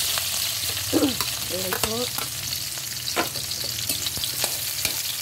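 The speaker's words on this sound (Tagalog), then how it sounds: "Maglalagay na tayo ng mantika. Ilagay na natin ang ating onion." Onion hitting hot cooking oil in a pan for a sautéed vegetable dish with tuna and shrimp, making a steady, close crackling sizzle with scattered stirring clicks and a brief voice speaking early on.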